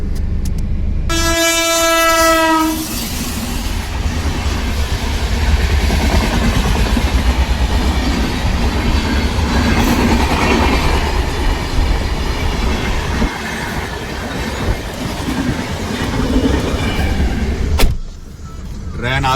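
A train runs past a level crossing, opening with a loud horn blast, then a long, steady rumble and rattle of wagons rolling by close at hand, with people talking over it.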